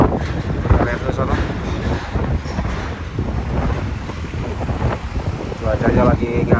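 Strong wind buffeting the microphone at Merak harbour, with gusty low rumbling, boat and water noise behind, and a person talking over it throughout.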